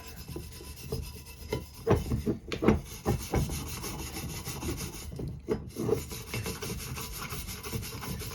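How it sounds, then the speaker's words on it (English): A wire brush scrubs corrosion off a hot tub heater element in close, rasping strokes, with a few louder bursts of scraping between quieter stretches of friction noise. "There's a little bit of kind of corrosion around here too that I'll just try to hit with the wire brush here"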